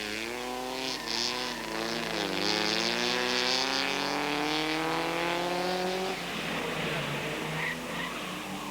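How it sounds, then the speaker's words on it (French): An Alfa Romeo race car, number 40, brakes hard into a chicane at a 1990 historic Grand Prix as its rear steps out; a loud engine note climbs and falls steadily, then turns rougher and noisier near the end. "Freinage un peu fort, l'arrière décroche et le contre-braquage n'est pas suffisant."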